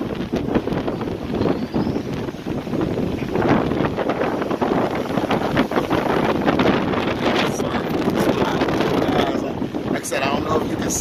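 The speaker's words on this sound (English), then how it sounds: "The wind's blowing pretty hard." Strong gusting wind from Tropical Storm Isaias on the Dominican Republic coast buffets the microphone in a loud, steady roar, with surf and storm noise mixed in throughout.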